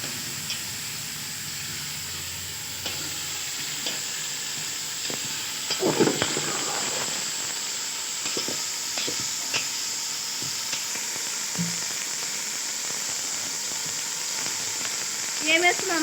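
Chicken pieces, leg pieces centred and others at the sides, sizzle in a pan over raised heat with a steady close hiss and a few scraping stirs.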